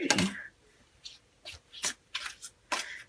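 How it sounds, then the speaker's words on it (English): Quick riffling bursts of tarot cards being shuffled, several short flurries separated by brief pauses, close and fairly quiet. "I'm going to just do a quick shuffle."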